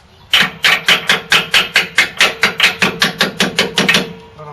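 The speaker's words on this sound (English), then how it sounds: "Little hammer. Help this guy slide out." Steady metallic hammer strikes knocking a rear shock loose on a 2004 Toyota Tundra, about sixteen blows in a fast even rhythm, loud and close, with no talking.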